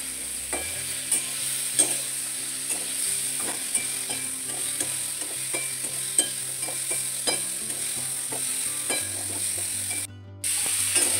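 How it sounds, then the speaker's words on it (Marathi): Peeled pumpkin pieces are sautéed in a pan over medium heat, giving a steady low sizzle broken by repeated spatula scrapes and clicks throughout, with no voices. "आता याला परतून घेऊ।"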